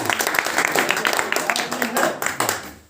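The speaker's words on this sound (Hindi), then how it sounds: "एक शर्मा जी के लिए जोरदार ताली" An audience claps for a participant at an informational gathering about Modi Care enrollment, a brief burst of scattered, fairly loud hand claps with a voice talking over them.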